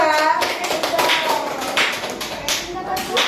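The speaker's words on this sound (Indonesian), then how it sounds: "Tepuk tangan buat kelompok 2." Children clap their hands for a group during a classroom activity, with taps and claps scattered across a few seconds and young voices mixed in close by.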